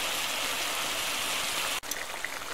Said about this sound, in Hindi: सारे मसाले डाल के अब हम इसको 3-4 मिनट अच्छी तरह भूनेंगे।